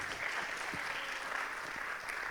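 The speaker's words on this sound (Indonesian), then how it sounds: "beri tepuk tangan sekali lagi untuk para narasumber kita" Steady applause from an audience, a continuous wash of clapping at moderate level that holds for the whole stretch.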